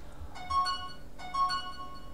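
A telephone ringtone sounds twice in short electronic bursts with a pause between, faint and thin over a quiet background hiss.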